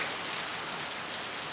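Steady, dense rain pours outdoors with a constant hiss of drops hitting surfaces, loud and unbroken throughout, with no voices.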